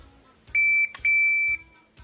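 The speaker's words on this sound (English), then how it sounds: "You're gonna hit the timer at the beep" A shot timer emits sharp electronic beeps during pistol dry-fire practice: two long, loud, steady tones back to back, bracketed by short clicks, with no one speaking.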